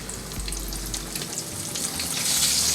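Flour-coated brined chicken fries vigorously in hot peanut oil, giving a loud, dense, continuous crackling sizzle that swells slightly toward the end, close up and with no talking.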